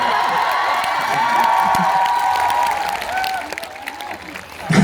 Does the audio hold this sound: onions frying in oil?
no